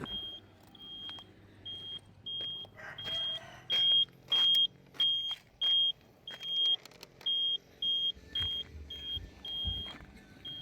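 Yamaha Mate 100 motorcycle electrical system giving its distinctive cricket-like beeping, a high electronic chirp repeating in an even on-off rhythm, close and fairly clear over faint background noise, with no speech.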